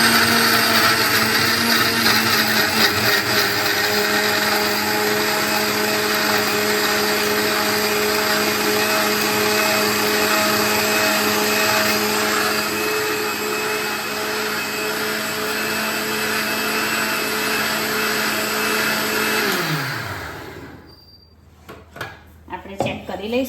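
A mixer grinder purees tomatoes for pav bhaji, a loud, steady high-pitched motor whine that runs for about twenty seconds before spinning down and stopping, followed by light clattering and a voice.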